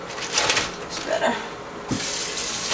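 Water pours from a tap while hair tools are rinsed, a steady, close hiss and splash with a brief gap of handling noise before the flow resumes loudly.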